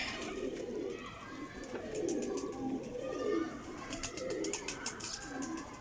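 Pigeons bred for flying coo in a low, repeated warble, several birds overlapping in steady rounds with soft chirps and rustles mixed in; faint background talk.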